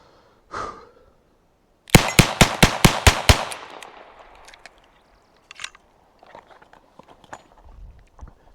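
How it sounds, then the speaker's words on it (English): A Smith & Wesson 586 L-Comp revolver fires seven .38 Special rounds in rapid succession, sharp loud evenly spaced cracks with ringing decay, preceded by a brief noise and followed by quiet handling sounds. "I'm gonna send all 7 shots of 38 special downrange as fast as I can"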